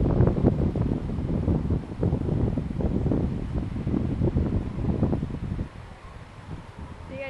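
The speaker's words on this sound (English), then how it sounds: "Oh, it's so windy." Strong wind buffets the microphone outdoors in a continuous low rumble that rises and falls in gusts.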